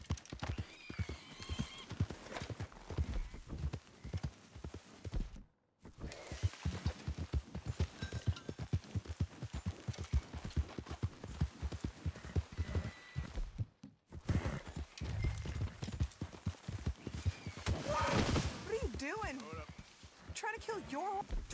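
Horse hooves clip-clop steadily while riding in the Western video game Red Dead Redemption, with a horse whinnying at times and voices talking over the steady galloping rhythm.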